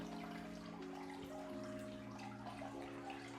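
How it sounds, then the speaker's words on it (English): Water pours into plastic jugs with handles, being filled for a fish breeding setup, a steady splashing stream whose tone rises as each container fills, with no voices. "we'll just fill them up with water"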